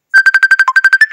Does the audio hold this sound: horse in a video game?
no